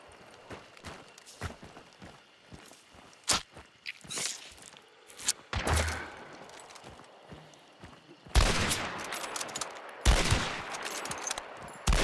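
Gunfire in the video game Hunt: Showdown: scattered sharp shots and crunchy footsteps, then two heavier, louder blasts near the end.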